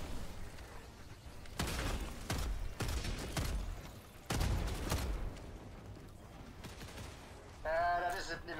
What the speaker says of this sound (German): Ich kann mit meinem Schrotgewehr die Dinger nämlich kaputt machen.